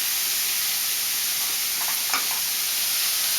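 Chopped onions stir-fried in fat in a cooking pan give a steady, bright sizzling hiss throughout, with a few faint scraping stirs partway through.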